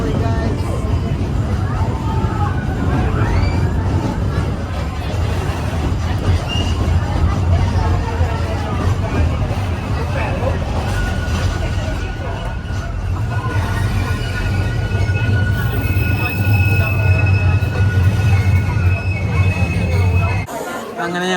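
A train runs along a single rail track in Hungary, giving a continuous loud rumble of wheels and carriage noise with a thin squealing tone in the later part, while passengers murmur in the background.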